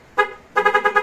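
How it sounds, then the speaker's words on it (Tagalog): Bosch Strider horn on a motor scooter, one short honk followed by a quick burst of four or five close, loud toots. "Yung busina na ito, yung Bosch Strider pa."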